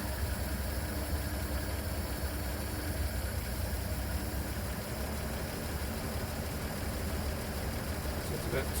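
An engine idles with a rich fuel mixture of about 11.5 to 12 air-fuel ratio while being tuned. It makes a steady, fairly quiet hum with an even low rumble and no change in pace throughout.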